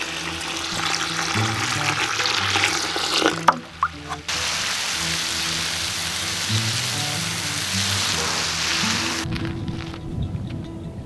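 Water pours steadily into a bucket of cracked corn on a desert farm in Arizona, a continuous rushing splash with a brief break partway through before it stops near the end.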